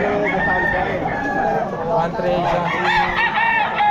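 Pumpkin sweater gamefowl roosters crow and cluck loudly and close at a crowded pet market in Malolos, overlapping calls throughout with people talking in Filipino underneath.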